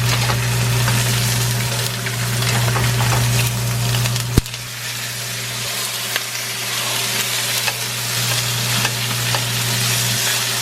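Samgyeopsal pork belly sizzling loudly in a pan at home in Seoul, a dense continuous crackle close by with a low steady hum underneath, one sharp clack midway and a few faint taps, with no voices.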